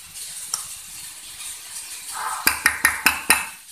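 A spoon stirs spiced dal with garam masala in a metal pan, giving a quick series of about five sharp scraping clinks against the pan over a faint sizzle.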